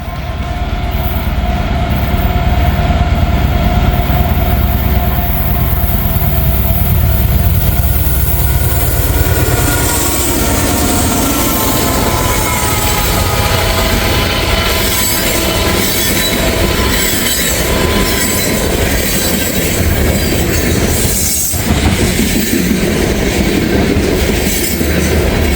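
A train passing at speed near Walton, Kentucky: a loud, close roar that builds into sustained rumbling, with wheels squealing on the rails and a rhythmic clickety-clack running for the whole length, with no talk.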